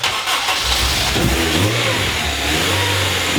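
Honda Integra with a K20A engine starting up and revving, a loud close mechanical roar with rising and falling revs throughout.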